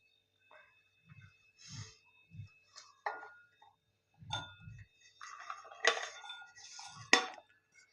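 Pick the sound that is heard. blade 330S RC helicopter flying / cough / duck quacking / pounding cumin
pounding cumin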